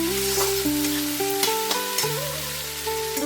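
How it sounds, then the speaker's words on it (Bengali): Potato, onion and green chilli sizzle steadily in a pan over a medium flame, a soft, even frying hiss under background music with no talk. "আলু, পেঁয়াজ আর কাঁচা লঙ্কা ভাজা ভাজা হয়ে গেছে"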